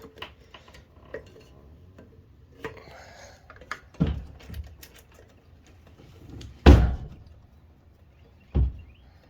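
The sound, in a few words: shed doors banging in the wind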